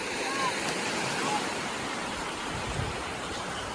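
Sea water washing at a quiet Konkan beach at Aare Ware near Ratnagiri, a close, continuous broadband rush of surf with no clear individual wave breaks.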